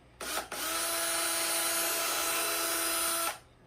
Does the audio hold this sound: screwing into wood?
yes